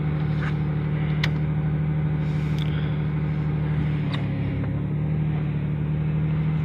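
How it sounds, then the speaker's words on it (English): 2006 Ford Ranger engine idling just after a cold start, a steady low rumble that continues evenly for several seconds, with a few faint clicks in the background. "Not that bad for a cold start."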